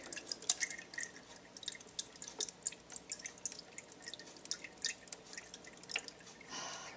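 Water streams and drips into the reservoir of an AeroGarden Bounty indoor garden, a close, quiet run of irregular splashes and droplets with no one talking.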